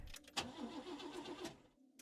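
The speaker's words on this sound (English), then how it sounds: "start the car?" A video game car engine cranks repeatedly without catching, a steady grinding whir after a sharp click, then cutting off into silence.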